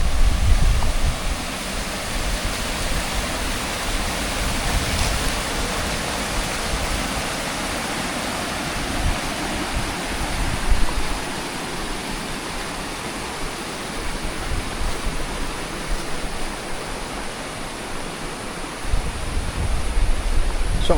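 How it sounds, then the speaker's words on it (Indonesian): Fast-flowing river water rushes in a constant broadband roar close by, steady for the whole stretch with slight swells in loudness. "Airnya deras loh teman-teman di sini tuh."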